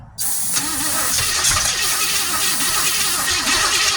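A flooded 1970 Chevelle small-block engine cranks over steadily after being sprayed with brake cleaner, a loud, continuous churning that runs for several seconds without catching.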